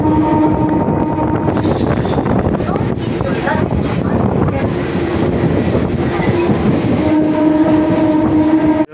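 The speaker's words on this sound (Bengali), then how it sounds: "একটা মেল গাড়ি ঢুকছে, হাওড়া ডিব্রুগড় ঢুকছে" Howrah–Dibrugarh mail train rolling into a station, a loud continuous rumble of wheels and carriages with clickety-clack and a sustained horn tone running through the whole stretch.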